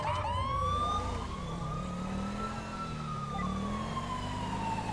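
A wailing ambulance siren in a video game, rising and falling in long sweeps over a low engine rumble, loud and close.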